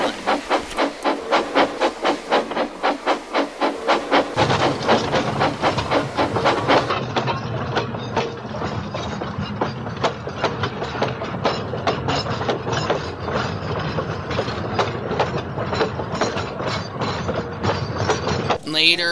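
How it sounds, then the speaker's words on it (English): A train chugs steadily with rhythmic puffing and a hiss of steam, rolling along continuously with music playing underneath. "Zack went off taking D199 and the rest of his train to the mainland"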